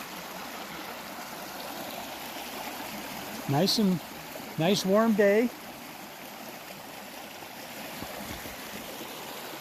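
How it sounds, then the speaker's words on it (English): A creek flows past a campsite on a warm day, a steady soft rush of running water throughout, briefly joined by a voice speaking over it near the middle. "Take a quick look at the creek here as it goes past us."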